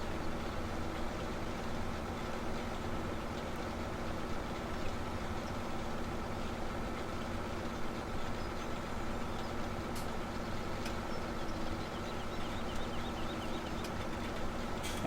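A tractor engine idles in the farming video game Farming Simulator 17, a constant low rumbling drone that holds steady throughout with no voices.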